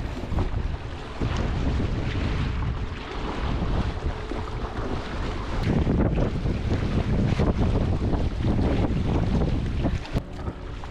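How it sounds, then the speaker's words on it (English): Strong wind roars across a microphone while a Hobie Adventure Island pedal-and-sail kayak moves over a lake in the Finger Lakes on a gusty day, a steady loud rush with water and boat noise blended in and no voices. "it was a particularly windy day, so it was a perfect day for this kind of testing"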